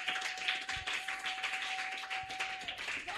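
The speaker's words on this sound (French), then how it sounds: "Applaudissons l'Éternel." Quiet, sustained hand clapping from a congregation in church, a rapid crackling patter with a few sharper claps standing out and a steady high whine running underneath until near the end.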